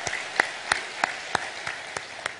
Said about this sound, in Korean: 한번 여러분 박수로 한번 격려해 주셨으면 좋겠어요